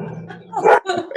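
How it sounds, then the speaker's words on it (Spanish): A dog barks a few short, loud yips close by, and a person's voice runs underneath. "el perro siempre ladra"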